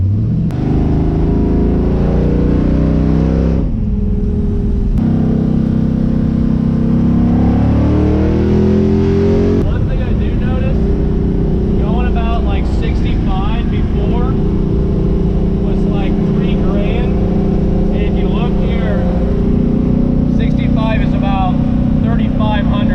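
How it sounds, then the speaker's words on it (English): A car with a new torque converter drives and accelerates, its engine drone climbing and dropping in pitch through gear changes, loud and close, while someone talks over it. "going for a drive here."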